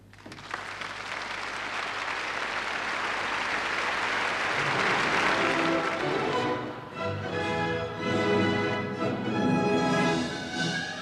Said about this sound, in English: Pretend along with me that I am this distinguished man and applaud like mad.